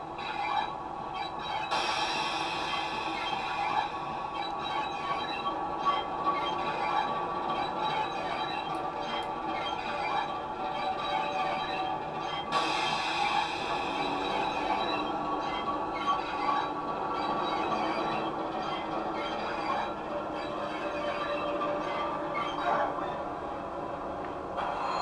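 Variable flange squeal from a Paul Chetter sound chip in a 7mm O gauge model locomotive, sounding as a steady, continuous metallic screech with high ringing tones that swells twice over a constant rumbling running noise, with no speech.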